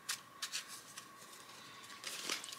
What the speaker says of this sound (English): I'm just gonna shuffle these really quick.